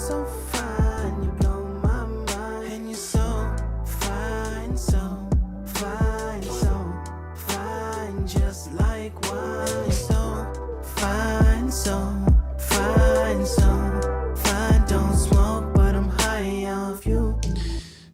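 Full vocal mix played back dry, before any mastering chain: sung lead over steady bass and bright percussive hits, loud and continuous with no talking throughout.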